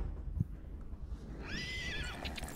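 A horse in the Battlefield 1 video game gives one rising and falling whinny that lasts under a second, over a steady rumble of battlefield noise.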